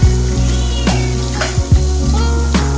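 Sliced onion with a pinch of turmeric stirred as it fries in a pan, a loud continuous sizzle broken by repeated scraping strokes of a spoon against the pan.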